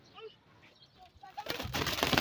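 Domestic pigeons kept in a flock, a few soft coos up close, then a sudden loud burst of fluttering wings that builds toward the end.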